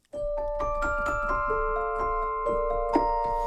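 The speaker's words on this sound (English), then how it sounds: "they added a really interesting celestatone, which sounds like this." Celestatone virtual instrument from the Crow Hill Vaults plugin, bright bell-like struck tones sustaining and overlapping in a gentle melodic sequence with rhythmic soft percussive ticks beneath, clean and close, no talking.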